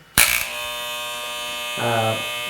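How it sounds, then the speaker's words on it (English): Electric hair trimmer switches on with a sharp click and settles into a steady, close buzzing hum with a strong tonal whine, briefly swelling louder as the blade meets something. "Turn on the hair trimmer once again."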